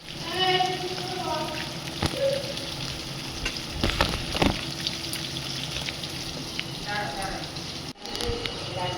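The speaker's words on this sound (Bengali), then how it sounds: "এখন মাছ ভাজা হচ্ছে।" Fish fries in a pan at home, a steady crackling sizzle with brief louder spits and a few clanks of utensils, while someone talks over it now and then.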